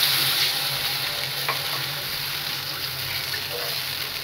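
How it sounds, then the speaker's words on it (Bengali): Water goes into a pan with sugar, a broad steady hiss and bubbling wash with a few faint clinks, close and alone, with no voices. "এবার দিয়ে দিব 1 কাপ পরিমাণ পানি।"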